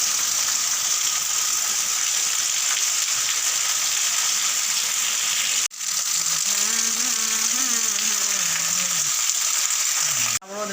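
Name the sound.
heavy rain falling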